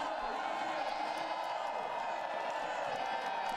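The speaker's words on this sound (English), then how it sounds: "Crowd finding voice for her." Crowd noise rises as spectators find their voice for a Kazakh woman cross-country skier in a 1 km freestyle sprint qualifier, a steady broad roar of cheering held at an even level throughout.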